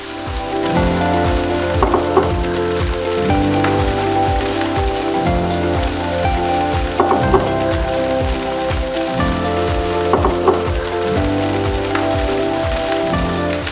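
Beef and rice fry for yakimeshi in a hot pan, giving a loud, continuous, crackling sizzle with occasional brighter pops and scrapes throughout, close up and with no talking.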